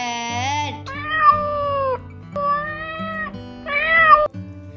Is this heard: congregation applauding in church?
no